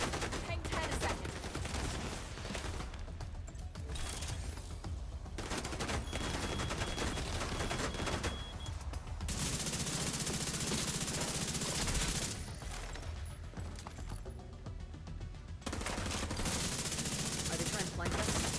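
Heavy gunfire in the shooter game The Division 2, with dense overlapping automatic bursts and shots that persist throughout, close and loud, with brief voices mixed in.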